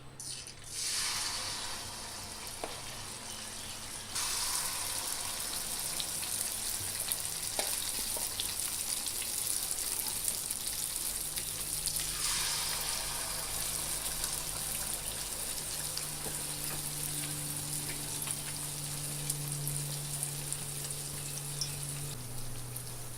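Wheat flour malpua sweets fry in oil, a steady moderate sizzle and bubbling with faint scattered crackles that grow a little louder after a few seconds and carry on for a while, with no talk.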